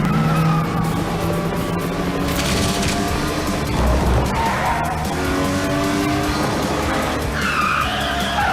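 Tires squeal and skid repeatedly over engine roar in a Cars racing video game featuring Lightning McQueen, loud and continuous with overlapping screeches.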